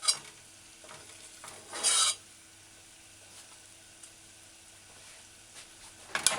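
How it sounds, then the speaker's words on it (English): A cooking spoon scrapes and stirs through hot flavored oil in a pan to lift out cooked pimento berries, with brief sizzling scrapes and a louder burst of stirring, then quiet sizzle before another clatter at the end. "Use a cooking spoon and remove the cooked pimento berries from the flavored"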